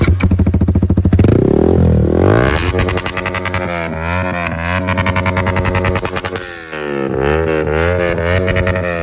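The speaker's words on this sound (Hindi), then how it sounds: "एग्जॉस्ट साउंड सुनाते हैं गाइस।" A Yamaha R15 V4 motorcycle fitted with a full system exhaust revs hard up close, with a rapid firing burble at idle climbing into loud, rising and falling revs that are blipped repeatedly.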